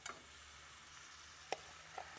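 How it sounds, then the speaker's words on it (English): Prawns sizzle in a frying pan, a faint, steady hiss with a few soft ticks and clicks from the pan, heard alone. "You can already hear the sizzle"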